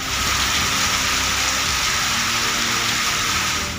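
Rain falls in Abbottabad as a steady, even hiss of water, constant and fairly loud from start to end with no talking.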